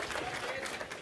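Audience applause, a brief burst of clapping from a crowd at a talk, steady and fairly faint with a dense, even texture throughout.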